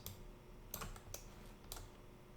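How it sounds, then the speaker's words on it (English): Keys on a computer keyboard are tapped in a few sparse, quiet clicks over a low background hum, recorded close but faint. "I'm going to hit tab and start typing scale"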